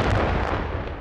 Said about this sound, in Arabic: تفجير دبابة للجيش الأسدي